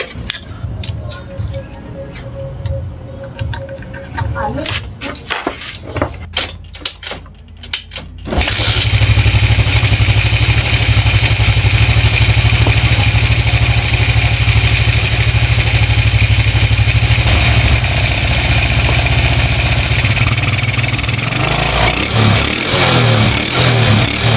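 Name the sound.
motorcycle engine running after repair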